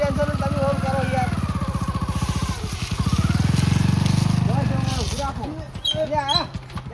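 A motorcycle engine idles steadily close by, its low, even throb running nearly the whole time, with people talking over it.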